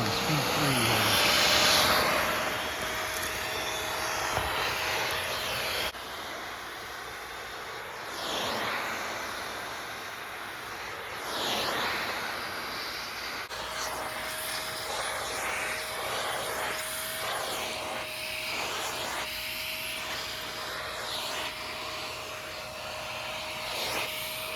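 A FruSun dog grooming vacuum brush connected to its hose and running on speed 3 gives a steady, loud whirring hiss that holds for the whole stretch, with small shifts in tone as it moves.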